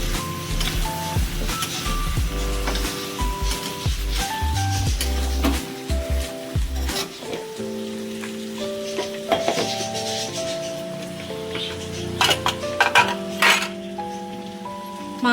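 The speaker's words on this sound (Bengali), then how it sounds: "দিয়ে এবার ভালো করে মাংসটাকে কষাবো যতক্ষণ না তেল ছেড়ে বেরিয়ে" Mutton stirred in spiced oil in a pan for Bengali mutton kasa, a metal spoon clinking and scraping against the pan over a soft sizzle, with a steady low background hum.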